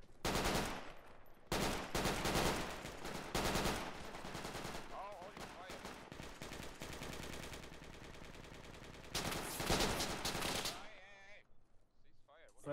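Rapid bursts of gunfire in the Project Reality military video game, loud and dense automatic fire in several long stretches with brief gaps, with voices talking underneath.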